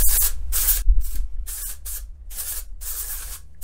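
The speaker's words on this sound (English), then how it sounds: "finally using Amika's Undone Volume and Matte Texturizing Spray" Amika Undone Volume and Matte Texturizing Spray hisses onto short hair in about six loud, close bursts separated by brief pauses, with no talking.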